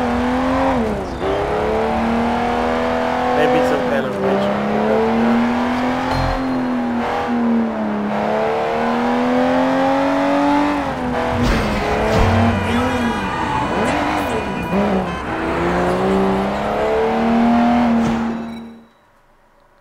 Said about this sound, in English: Ooh, almost got hit by that car.